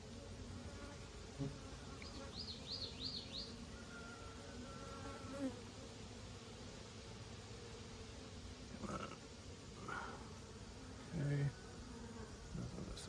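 Continuous low droning hum of many honeybees buzzing close by at a hive, steady throughout with a few brief louder passes and faint background sounds.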